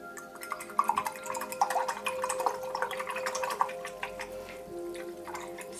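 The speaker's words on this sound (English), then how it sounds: "we need to rinse the brush with plenty of water" An ink brush is rinsed in water in a bowl, with soft, quiet trickling and dripping splashes and light clinks against the vessel, close and low in level.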